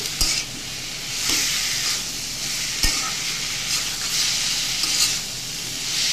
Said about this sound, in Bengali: এবার এটাকে একটু নেড়ে চেড়ে মিশিয়ে দেবো